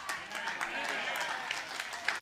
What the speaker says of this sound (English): A little bit of a lackluster clap there